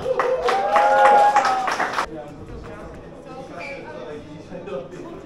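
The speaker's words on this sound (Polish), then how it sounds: "Wielkie brawa!" Audience in a pub clapping for a performer at an author's evening, a burst of applause lasting about two seconds, then dying into room murmur and a voice.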